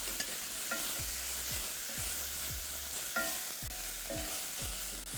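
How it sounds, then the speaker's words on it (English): Onion cooking in a pot for chicken kebabs with Lebanese rice gives a steady sizzle under repeated stirring, with a spoon scraping the pot about once a second. No one talks. "While that onion's cooking,"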